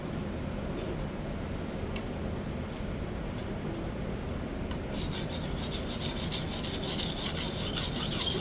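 A chipped kitchen knife scrapes against a sharpening stone in steady rasping strokes, growing louder and brighter toward the end, with no talking.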